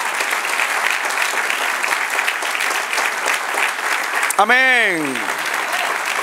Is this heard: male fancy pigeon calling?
no